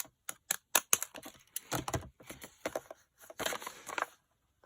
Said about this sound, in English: Hardest part of these scissors is making sure you get the next thing lined up so that it cuts exactly